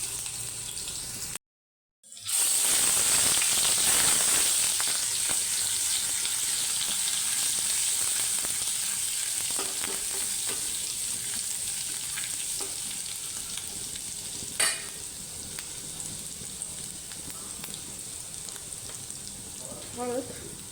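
Cumin and a piece of cinnamon hit hot oil in a tadka for chole with a sudden loud sizzle that stays bright and crackling, easing slightly over time, while stirring clatters underneath.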